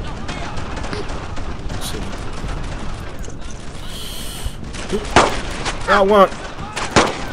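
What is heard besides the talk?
gunfire in the video game Brothers In Arms: Earned In Blood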